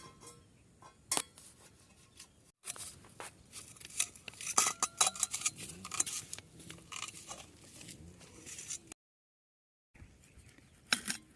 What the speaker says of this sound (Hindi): चलो प्याज काट लेंगे पहले।